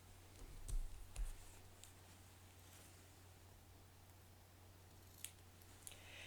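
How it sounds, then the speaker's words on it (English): Scissors snipping a point off fabric interfacing during sewing, a few faint close cuts early on, then quiet handling clicks and small ticks. "Trim off this little top point there with your scissors"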